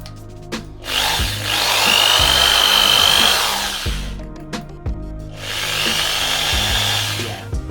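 A power drill whirs in two long bursts, rising and settling in pitch as its speed setting is lowered, with clunks and scraping between runs, close and loud, while sanding a BMW 5 Series E60 headlight.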